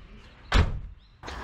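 A car door on an Infiniti G35 opens, giving a heavy thunk followed by a second door thud a moment later, close by and with no talking.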